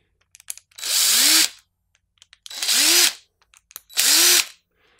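A power drill backing three screws out of a GoPro mount, three separate whirring bursts about a second long each, with small clicks and handling noises between them, close and loud.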